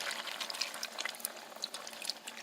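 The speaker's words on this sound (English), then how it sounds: "So I'm going to pour my coconut milk in here." Coconut milk poured into a pot for a chickpea curry: a steady, close liquid splashing and trickling sound that runs for a couple of seconds with no talking.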